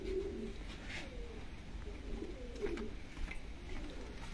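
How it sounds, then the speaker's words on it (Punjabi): Pigeons coo repeatedly at a loft of champion racing pigeons, soft throaty calls rising over a steady background hum, with a few faint chirps scattered through. "ਉਹ ਰਹਿ ਕਬੂਤਰ"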